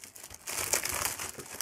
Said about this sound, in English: let's get the outer packaging off